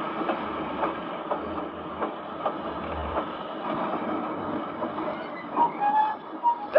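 A train rumbles steadily as it rolls in, with rhythmic clicks of wheels and a brief metallic squeal near the end.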